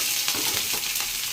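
Onion and chilli frying in hot oil with panch phoron spices in a pan, a steady close sizzle broken by a few soft stirring scrapes, with no voices.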